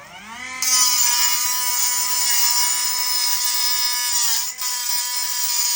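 Steady high-pitched whine of an angle grinder spark testing metal, biting in loud and close, holding a continuous tone with a brief dip near the end.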